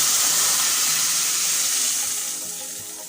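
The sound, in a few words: tamarind pulp added to hot tempering of cumin and asafoetida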